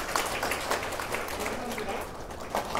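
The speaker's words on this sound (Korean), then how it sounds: "큰 박수로 맞이해 주십시오" A civic audience at a district office public dialogue applauds to welcome a guest speaker, a diffuse, moderately distant patter of clapping that blends with a murmur of room noise.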